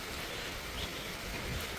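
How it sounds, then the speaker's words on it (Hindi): Steady, dense rain pours down during a wildlife safari trip to Corbett, a continuous broadband hiss that stays close and fairly loud without any talking. "यहाँ पे भी थोड़ी तेज़ शुरू हो गई है बारिश।"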